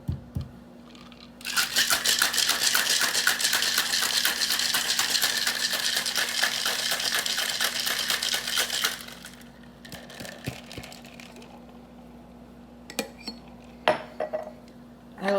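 A cocktail shaker full of ice for a margarita rattles loudly and rapidly for about eight seconds, then gives way to scattered clinks and taps of glassware.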